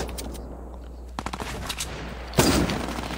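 Rapid gunfire crackles through a shooter video game, with scattered shots early on, then a louder sustained burst near the end, all close and continuous without speech.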